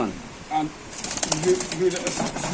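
Pigeons for sale at a pigeon seller's coo softly nearby with a brief flutter of wings, while people talk over them.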